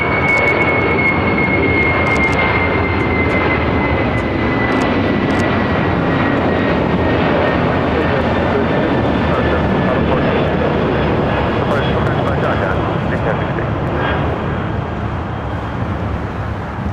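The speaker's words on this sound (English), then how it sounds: "286 taking off to San Francisco on a 747-400 converted freighter." A Boeing 747-400 converted cargo freighter takes off at LAX, its jet engines producing a loud, steady, broadband roar with a thin high whine sliding slowly downward, sustained for the whole stretch.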